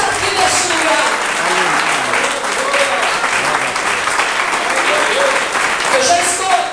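A Baptist church congregation claps loudly and continuously during worship, the sound merging into a dense wash with singing and voices carried over it throughout.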